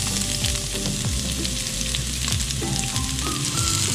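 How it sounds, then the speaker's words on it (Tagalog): Garlic sizzles and fries steadily in oil in a pan for a rice vermicelli noodle dish (pancit guisado), a dense continuous crackle with occasional stirring, close and fairly loud, no voices. "And now we saute the garlic"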